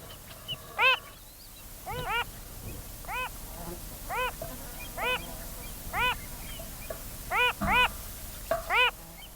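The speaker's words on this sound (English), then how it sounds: "this is the call of that spinning bird of Salt Lakes, the Wilson's phalarope" A Wilson's phalarope of the salt lakes gives a series of about a dozen short, nasal, quacking call notes, some doubled, at irregular intervals over a soft, steady outdoor background.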